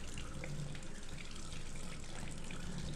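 A sink faucet runs steadily, warm water gushing in a continuous close hiss and splatter with no pauses or voices.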